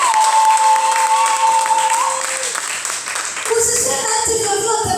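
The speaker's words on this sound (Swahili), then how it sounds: "Pigie Bwana makofi mazuri." A church congregation claps together during a sermon, a loud, dense crowd applause that fills the whole stretch, with a sustained voice or tone riding over it and other voices mixed in.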